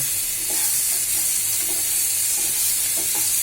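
Mashed rohu fish fries in a pan, a loud, close, unbroken sizzle with faint stirring scrapes occasionally rising through it.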